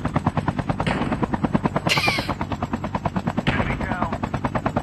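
Helicopter rotor in the Call of Duty Mobile battle royale game, a steady rapid chopping pulse throughout, with bursts of gunfire cutting in over it.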